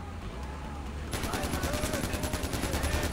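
Rapid automatic gunfire from a Far Cry 4 firefight erupts after a brief lull and keeps up as a dense, loud burst of repeated shots with game ambience underneath.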